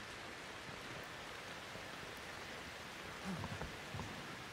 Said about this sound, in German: Als ob es hier so Blut regnet.